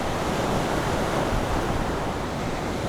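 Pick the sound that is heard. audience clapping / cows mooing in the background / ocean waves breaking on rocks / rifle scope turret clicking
ocean waves breaking on rocks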